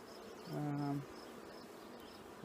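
Honeybees buzzing close by at an open hive, one droning loudly for about half a second before fading back into a soft, busy hum.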